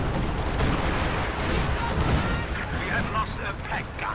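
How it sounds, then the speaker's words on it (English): A 105mm howitzer barrage in the Company of Heroes 2 strategy game sends a steady wash of overlapping blasts and rumbling impacts, with a voice talking over the fire throughout. "In comes 105mm howitzer barrage."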